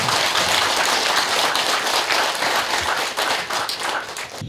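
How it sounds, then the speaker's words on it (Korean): A crowd at a Buddhist organization's inauguration ceremony for its second president claps loudly and continuously, a thick, close wall of applause lasting about four seconds. "박수를 한번 부탁드립니다"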